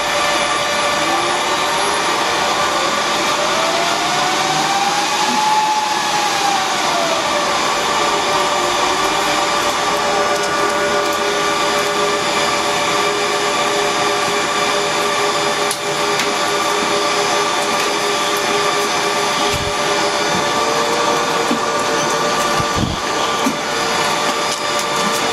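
A Dell PowerEdge 2850 server runs with a loud, steady fan roar and a broadband whoosh. A faint tone slowly rises and falls over the constant drone, with no speech.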